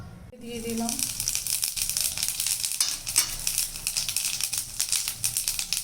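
Dried red chilli and bay leaves sizzling in hot oil in a wok, a loud, crackling fry that starts abruptly and continues densely throughout.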